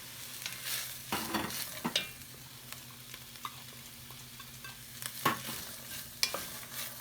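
Onions and carrots fry in a pan with a little vinegar as a spoon stirs them, scraping and clattering in irregular bursts over a faint steady sizzle, close and alone.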